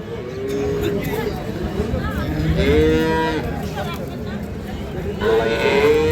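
A dairy cow moos several times close by at a cattle market, long drawn-out lows rising over a busy background of people chattering.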